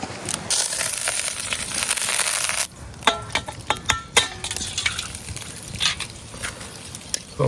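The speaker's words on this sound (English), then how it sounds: "I'm frying the egg and the cooked rice together" An egg and cooked rice sizzle and crackle steadily in a hot pan for fried rice, then a spatula scrapes and taps against the metal in short, irregular strokes.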